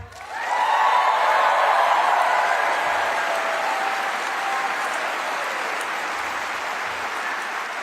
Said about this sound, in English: So can we just give one more huge round of applause for our union leaders,